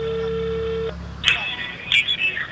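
A telephone call is dialed, with a steady tone for about a second followed by a short burst of brief electronic beeps, faint and close, near-silent between them.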